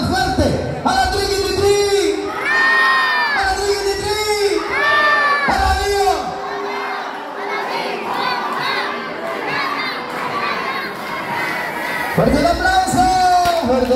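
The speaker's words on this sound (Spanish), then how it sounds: "¿Quieren escuchar una porra que se escuche de aquí hasta dónde?" A large crowd at a quinceañera party shouts and chants together loudly, voices rising in rhythmic bursts with cheering and whoops throughout.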